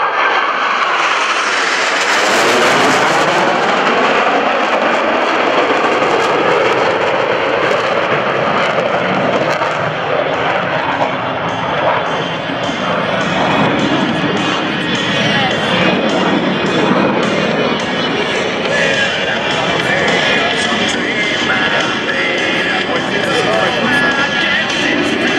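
Blue Angels US Navy jets roar overhead in the low brake cross at a military open house airshow, a loud, steady jet rumble with a rising swell of engine noise near the start and a public-address announcer talking over it.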